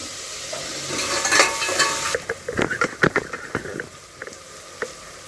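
Chopped onion and tomato fry in a pan for chicken liver fry, a steady close sizzle broken by scraping stirs and soft crackles, with no talk.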